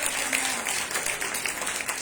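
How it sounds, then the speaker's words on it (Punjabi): A congregation applauds during a Sunday church service, with steady, fairly loud clapping from many hands filling the whole stretch and no talk. "ਤਾਲੀਆਂ ਵਜਾਓ ਸੀ ਪਰਮੇਸ਼ਰ ਦੇ ਪੁੱਤਰ ਦੇ"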